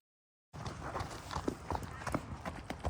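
Horse hooves clip-clop on the ground as a poorly led horse moves about, a run of irregular, fairly close knocks over steady background noise, with no talk.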